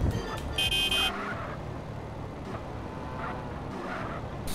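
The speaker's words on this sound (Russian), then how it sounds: "Дэвид, побибикай им там." In the video game GTA Radmir RP, a car horn gives a short toot near the start over steady engine and road noise, with faint further beeps later.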